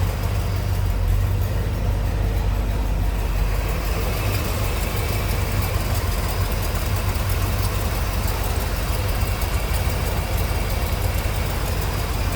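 A 1973 Chevrolet Corvette C3 coupe with a 454 V8 idles at close range in a steady, deep rumble that holds evenly for the whole stretch, with no voices over it.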